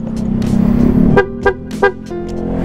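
A loud aftermarket PIAA horn on a Honda Click 125i scooter honks in three short, sharp blasts over an idling engine, following a longer steady tone.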